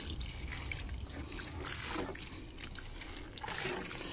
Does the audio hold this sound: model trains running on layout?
no